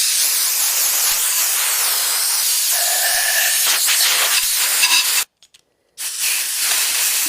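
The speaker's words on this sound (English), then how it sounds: "You just take a blowgun to your powder coating gun and blow the powder right off of it." A compressed-air blowgun blasts powder off a powder coating gun in a loud, continuous close hiss, with a brief stop near the end before the air starts again.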